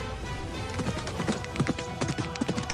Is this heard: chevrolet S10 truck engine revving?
no